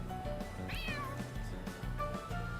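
A cat meows once in the video game Kuro no Kiseki 2, a short rising cry heard over steady game music and ambient background.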